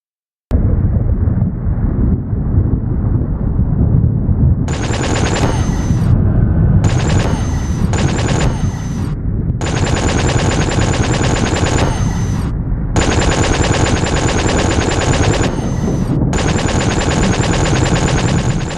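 Spaceship weapons fire in SpaceBourne in repeated rapid bursts over a continuous low rumble, with several sustained volleys separated by short gaps.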